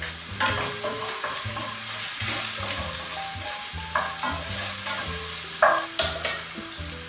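Chopped spring onions sizzle steadily in hot oil alongside SPAM, a continuous close frying hiss with occasional stirring clatter and no talk.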